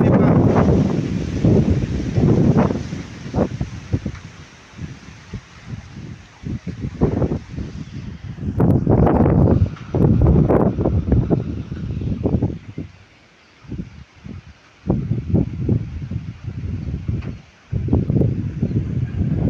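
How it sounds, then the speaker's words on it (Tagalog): Strong wind blows in gusts with a drizzle but no real rain, roaring close and loud against the microphone. It swells and eases repeatedly, dropping briefly near the middle before surging again. "Hangin ang malakas dito sa amin, guys."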